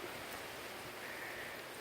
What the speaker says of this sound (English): so I think we'll be getting this kind of rain